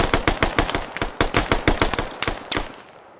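Automatic gunfire in the military shooter game Squad, a rapid burst of about fifteen sharp, close shots in quick irregular rhythm that stops abruptly, with no talking.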